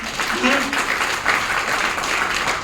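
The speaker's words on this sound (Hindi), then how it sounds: "एक बार तालियां बजाओ" An audience in an indoor hall claps in response to a speaker, a dense patter of applause close by with a voice calling out over it.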